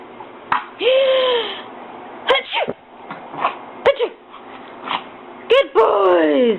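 A dog indoors sneezing repeatedly, several short sharp snorting bursts spaced a second or two apart, with a person talking and coaxing between them.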